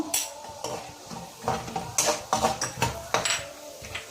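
Cashews and cardamom powder frying in ghee for sweet rava laddu, a close sizzle broken by repeated stirring scrapes and spoon knocks against the pan, steady and busy throughout.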